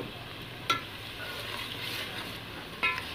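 Tomatoes hit a pan of frying masala and are stirred, a steady close sizzle running throughout with two brief sharp scrapes or clinks of the spoon against the pan.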